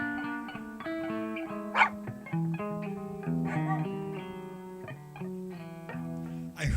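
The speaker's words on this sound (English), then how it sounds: "what do you have to say, little dog?" Dog barks ring out over a guitar-and-keys jam session, a few short yips and barks mixed into steady sustained music, moderately loud and close.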